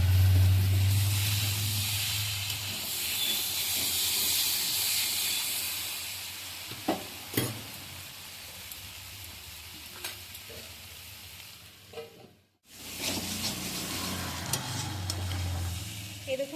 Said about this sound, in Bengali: গ্যাসের আঁচ মিডিয়ামে করে রেখে ভাজতে হবে মাঝে মাঝে একবার করে নাড়তে হবে